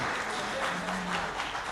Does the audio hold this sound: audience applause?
yes